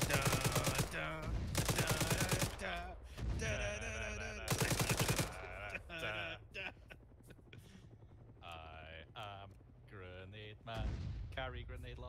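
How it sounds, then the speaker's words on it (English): Repeated grenade launcher fire and explosions in the Arma 3 video game, on the Chernarus map. Heavy bursts of shots come in dense clusters, with louder stretches at the start and middle, while people talk over them. "he shoots many cans of grenades at Americans"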